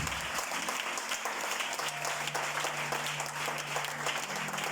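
A church congregation claps and cheers during a worship service, a dense, continuous wash of applause with a faint sustained tone beneath, filling the whole stretch.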